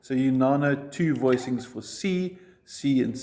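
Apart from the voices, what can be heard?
No everyday noises stand out.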